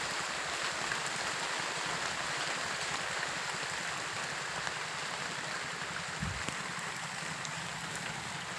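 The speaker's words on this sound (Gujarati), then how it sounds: "વરસાદ થઈ ગયો ચાલુ" Rain falling steadily on a farm, a dense even hiss of drops that continues alone at a constant moderate level, with one brief low thump partway through.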